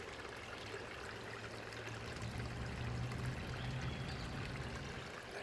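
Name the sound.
water pouring from pond pipe into top pond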